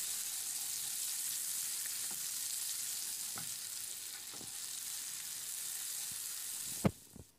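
Butter melting into caramelized sugar in a pan gives a quiet, steady hiss with a few faint ticks, then a sharp spatula knock near the end; close and without talk.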